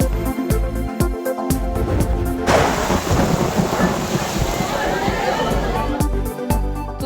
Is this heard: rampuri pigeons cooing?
no